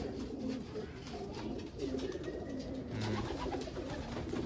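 Racing pigeons in a loft coo in low, repeated throaty phrases, soft and moderately close over a steady background hum, with faint other bird sounds.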